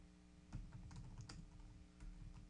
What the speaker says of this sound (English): I can't talk while typing.